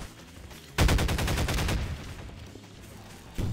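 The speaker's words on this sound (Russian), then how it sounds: "А давайте по нему пострелим." Rapid automatic gunfire fired at an animatronic nextbot in the video game Garry's Mod, a loud, dense burst of shots lasting about a second after a quiet start, then a fading tail and another short burst at the end.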